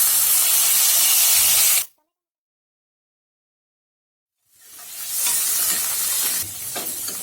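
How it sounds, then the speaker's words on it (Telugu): Chopped tomato pieces hit a pan of softening fried onions for a Telugu bottle gourd and chana dal curry, giving a loud broadband sizzle that cuts out for a few seconds, then returns steady and hissing with no talk. "ఇలా జస్ట్ ఉల్లిపాయలు మెత్తబడటం స్టార్ట్ అవ్వగానే తరిగి పెట్టుకున్న టొమాటో ముక్కలు వేసుకోవాలి"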